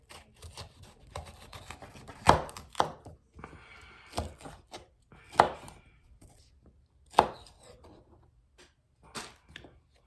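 A knife chops peppers on a cutting board for homemade chili, giving sharp, close, irregularly spaced chops with quiet pauses between them and no talking.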